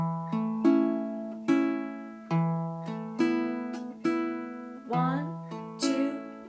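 A baritone ukulele is fingerpicked close up in a gentle repeating waltz-time pattern: single plucked low strings followed by paired higher strings struck together, each note ringing and decaying, with no voice.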